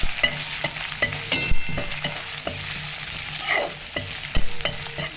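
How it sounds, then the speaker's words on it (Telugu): Ginger garlic paste fries in a pan with a loud, continuous sizzle, punctuated by regular sharp scrapes and taps of a stirring spoon, heard close with no talking. "తర్వాత అల్లం వెల్లుల్లి పేస్ట్ వేసుకోవాలి, కొంచెం బాగా వేయించుకోవాలి."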